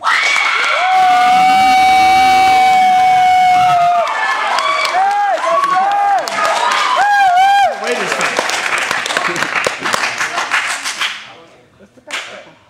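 Audience at a live debate event applauds and cheers, a dense roar of clapping and shouts with whistles, loud and close, fading out near the end.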